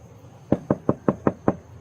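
Six sharp, evenly spaced knocks on a rental car's window, close and distinct against a quiet background.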